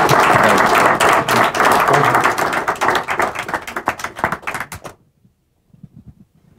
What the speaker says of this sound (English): Can you give a thank you applause?